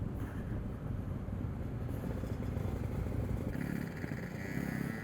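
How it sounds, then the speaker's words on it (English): Several motorcycles stream past on a road while a Ducati rider is held up among them, a steady dense engine roar with rising revs toward the end, no talk. "There is so many bikes coming down now."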